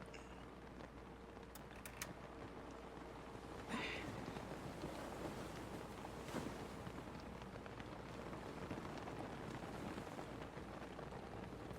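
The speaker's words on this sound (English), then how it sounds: "That rain on the tent is so soothing." Rain patters steadily on a tent in a dense, even hiss from start to finish, with a few faint knocks and no speech.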